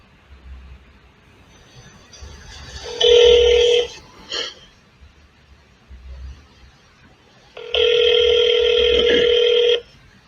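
Two long bursts of a telephone ringback tone sound over a speakerphone, each lasting about two seconds with a quiet gap between them, loud and close.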